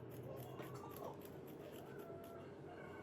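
Scissors snip through two layers of fabric laid good sides together for a pillow slipcover, a soft steady cutting rustle close by with a faint background hum and no talk.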